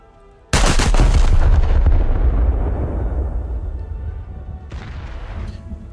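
A battleship's big guns fire a single massive salvo in a naval combat game, a sharp broadband blast rolling into a long, heavy rumble that slowly fades, with a fainter secondary boom near the end.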